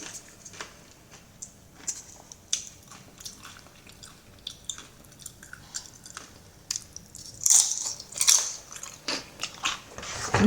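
Crunchy nachos topped with chili and sour cream are bitten and chewed up close, with repeated sharp crackling crunches and soft wet squishes, loudest and densest near the end.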